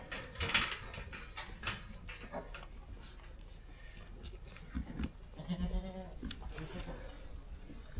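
Young goat kids bleating in a farm setting, several short high cries scattered across the clip at close range over a noisy background, with occasional faint handling sounds.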